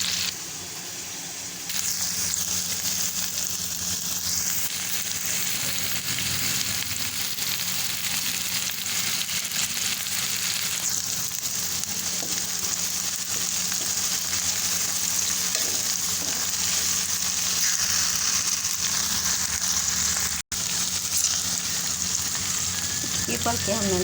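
Okra and onion frying in a pan, a steady loud sizzle with stirring that runs continuously throughout, a brief dropout near the end.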